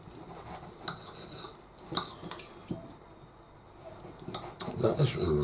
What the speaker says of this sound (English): I'm going to cut it with my other knife